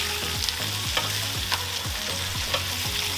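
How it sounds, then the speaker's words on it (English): Bacon-wrapped chicken sizzles steadily on a Weber Baby Q gas grill, a close, continuous frying hiss with occasional soft pops and a recurring low scraping tone from turning or grill noise, no voices. "you can see that bacon is rendering nicely"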